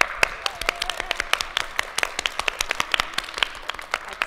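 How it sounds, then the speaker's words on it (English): Children at an interactive book reading applaud themselves with scattered, uneven hand claps that keep going for several seconds at moderate volume. "I would love if you all could give a real round of applause to yourselves."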